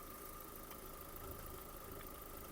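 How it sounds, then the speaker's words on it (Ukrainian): An Opel Zafira car engine idles at an even, low rumble with a faint tonal hum, continuous and unchanging throughout. "Робота двигуна, двигун працює дуже чудово"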